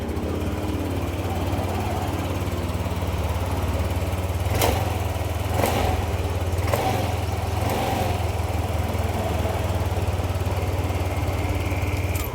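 A Yamaha Nmax 155 V2 scooter engine runs at a steady idle after repairs, a constant low drone with a few sharp clicks and rattles partway through.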